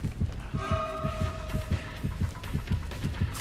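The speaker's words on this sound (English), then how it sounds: "Do I hear two heartbeats" Killer heartbeat from the game Dead by Daylight: steady, rhythmic low thumps repeating about every half second, throbbing under a droning tonal hum throughout.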